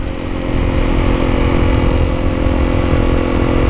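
Motorcycle fitted with a 13-tooth front and 42-tooth Sunstar rear sprocket, its engine droning loud and close with a steady, even roar throughout.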